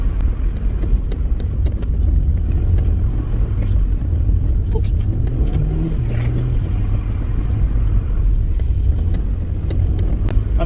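A Rover 25 car drives on with a dense, steady low engine and road rumble heard from inside, and a slight rise in revs partway through.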